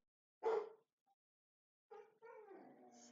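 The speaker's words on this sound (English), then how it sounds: "my dogs are barking" A dog gives one sharp nearby bark, then after a pause a longer whiny bark or yelp, in an otherwise quiet indoor room.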